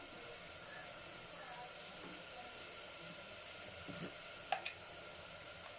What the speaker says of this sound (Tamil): ஆனியனை இதல சேர்த்துக்கிறேன் ஆனியன் நல்லா வதங்கட்டும்